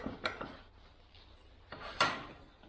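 Bullet connectors for an Austin Healey are crimped in a vise, giving a few quiet mechanical creaks and two sharper clicks near the end against a faint low background, with no voices.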